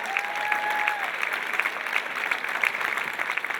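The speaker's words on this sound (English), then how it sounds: "A round of applause for the teachers, please." Audience at a school anniversary celebration in London clapping for the teachers, a dense, even wash of applause filling the room, steady and moderately loud from start to finish.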